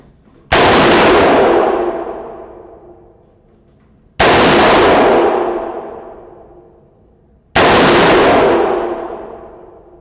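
Three loud, sharp rifle shots from an AR-15 clone of the Colt Commando XM177 firing Aguila .223 ammunition, each crack ringing out and decaying over about three seconds before the next.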